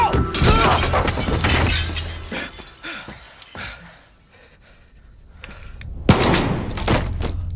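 In the Far Cry 6 video game, a loud gunshot bursts with shattering glass and debris, fading into a quieter stretch before another sharp crack and crashing impact closes the scene.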